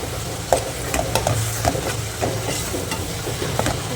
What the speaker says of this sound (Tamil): ஸோ நம்ம பச்சை மிளகா போட்டுக்கலாம்.